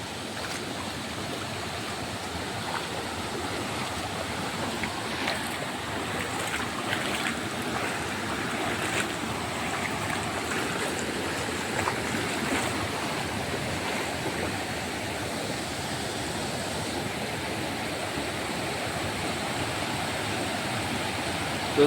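Floodwater of the Kurdhe river rushes in a steady, broad, continuous roar, unbroken and fairly loud throughout, with no talk.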